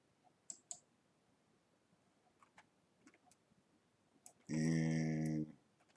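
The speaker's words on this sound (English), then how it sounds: "I'm going to right click this and I want to turn off this category." Mouse right-clicks in Revit 2023 while working on a structural framing plan: a few sharp, close clicks spread across a quiet stretch, followed by a short tonal beep near the end.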